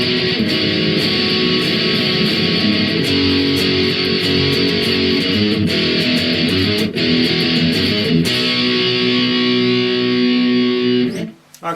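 Heavily distorted electric guitar playing the chorus B part of a song, a sustained wall of strummed power chords with occasional chord changes, loud and close, ending with an abrupt mute and no talking.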